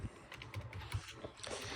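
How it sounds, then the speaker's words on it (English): Typing on an older-model Lenovo Professional keyboard, a quick, irregular run of soft keystroke clicks heard up close and alone. "I'm using my Lenovo Professional keyboard."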